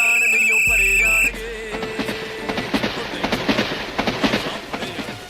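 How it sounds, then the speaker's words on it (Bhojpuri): A train sound effect in a devotional song opens with a sharp whistle, then shifts to rhythmic clattering of rolling wheels that repeats steadily. "इधर रेल ने सीटी किस तरह दे दी है"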